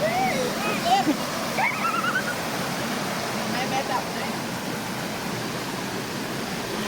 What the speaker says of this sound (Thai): เราต้องเดินผ่านลำธารด้วย